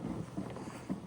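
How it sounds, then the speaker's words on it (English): Wind blowing outdoors in a garden while garlic is planted, a steady rough buffeting rush against the microphone with a few louder gusts across a short stretch. "Ooh, it's windy."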